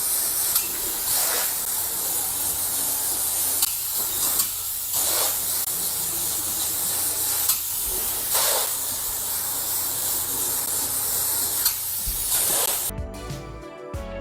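A loud, continuous spraying hiss of spray foam insulation being applied to walls runs steadily with slight pulses, then cuts off abruptly near the end.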